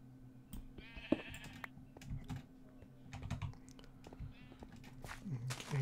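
Sheep in the video game Minecraft bleat in short wavering calls among constant computer keyboard typing and clicking, with someone talking quietly under it.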